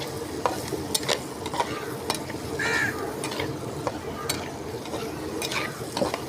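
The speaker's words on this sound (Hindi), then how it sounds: "घी पे आएगा तो हम इसमें तकरीबन 50 ग्राम हरी मिर्ची लंबी लंबी काट के शामिल करेंगे" Green chillies cut long frying in ghee with mutton in a village kitchen give a steady close sizzle, broken by regular scraping stirs of a spoon and a brief crow call in the background.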